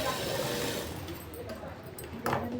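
A sewing machine runs steadily while stitching the lining of a ruffle-sleeve blouse, a close continuous whirr with a few small clicks near the end.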